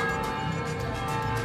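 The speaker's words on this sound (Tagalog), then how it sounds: "So tumutunog na yung kampana ng simbahan, kasi yung simbahan is nasa likod lang dito." The large church bell of Taal Basilica in Batangas rings steadily from close behind, its sustained tolling filling the air with a dense, resonant hum.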